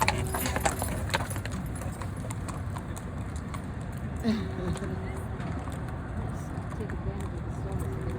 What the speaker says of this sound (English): Horse traffic. Stockyards traffic jam.